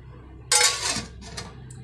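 A metal pot of water is set down on an outdoor cooking fire with a short clanking knock, followed by a lighter metallic clink, close and clear over a low background hum.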